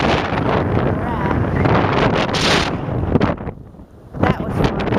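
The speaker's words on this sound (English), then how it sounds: "I wish it wasn't so windy because I had no block for this microphone." Strong gusty wind roars straight into an unshielded microphone on a rocky seaside spot in Old San Juan, Puerto Rico, loud and continuous with a short lull before surging back.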